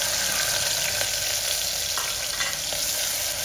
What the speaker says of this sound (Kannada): ಈಗ ಎಣ್ಣೆ ಕಾದಿದೆ, ಇದಕ್ಕೆ ಈರುಳ್ಳಿ ಹಾಕ್ತಾಯಿದ್ದೀನಿ.